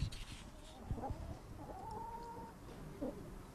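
Chickens cluck faintly in a village farmyard, a few scattered calls and a drawn-out squawk over a low outdoor background, with no voices.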